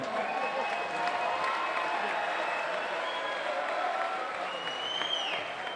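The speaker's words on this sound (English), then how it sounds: "could you please put your hands together for both fighters?" Steady applause from a crowd at a Caged Steel MMA event, applauding both fighters as scorecards are totalled, with a high whistle sliding over the sustained clapping and no talk.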